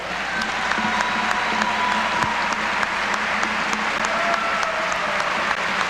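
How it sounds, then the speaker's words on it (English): Sustained applause from an indoor volleyball crowd giving a standing ovation to a retiring coach in a college arena, a dense, steady roar of clapping that holds evenly throughout without a break. "Don Shondell receiving a standing ovation from a great crowd here at the Gate Center"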